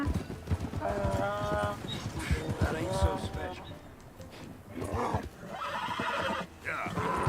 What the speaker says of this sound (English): It's just a donkey, idiot.